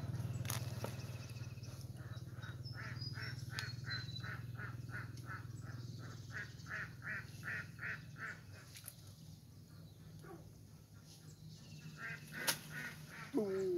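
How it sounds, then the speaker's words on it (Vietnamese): Ducks quack in a quick rhythmic series while feeding outdoors, the calls bunched together and fairly close over a steady low hum, then thinning out toward the end. "vịt nó ăn anh em ạ"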